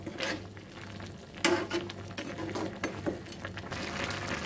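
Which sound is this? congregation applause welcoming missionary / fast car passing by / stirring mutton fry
stirring mutton fry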